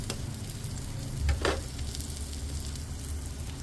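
A vegetable omelette frying in a pan, giving a gentle continuous sizzle with a couple of brief scraping touches from a utensil, close and steady with no talking.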